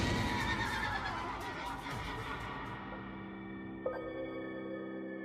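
A frightened, injured horse gives a loud, long whinny that fades out over several seconds, ending in a near-silent tail with a brief knock.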